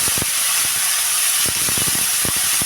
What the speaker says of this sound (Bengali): জিরেটা গরম হয়ে গেছে, এর ভেতরে দিয়ে দিচ্ছি আমি কেটে রেখেছিলাম কাঁকরোল আর আলু।